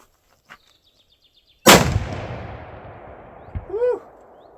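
A single loud, sharp rifle shot from a short-barreled Mosin rifle fired outdoors, with a long rolling echo fading away, a faint click beforehand and a brief metallic clatter afterward.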